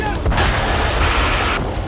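Gunfire from the Israeli army during a raid where bulldozers also arrived, sharp bursts of shots and booms with a rumbling, noisy backdrop, fairly loud and close.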